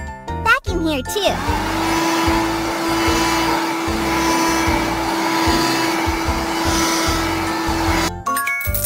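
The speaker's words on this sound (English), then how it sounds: "Vacuum here too!" A vacuum cleaner in a children's bedroom-cleaning video game gives a steady, loud electronic whir for several seconds, opening and closing with short bright chimes and jingles.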